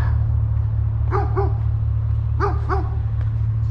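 Dogs bark in two quick pairs of sharp barks, spaced about a second apart, carrying over a constant low engine-like hum outdoors.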